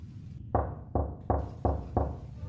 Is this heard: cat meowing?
no